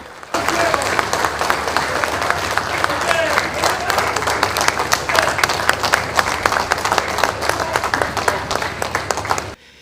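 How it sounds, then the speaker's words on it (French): Sustained standing ovation for the head of state entering a gathering: dense, loud applause from a large crowd that holds steady for about nine seconds. "Lors de son entrée, le garant de la nation a eu droit à une standing ovation."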